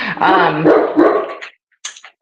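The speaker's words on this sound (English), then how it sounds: "of course, there's my dogs" Household dogs bark in short bursts near the microphone, partly under a man's speech and then alone briefly at the end.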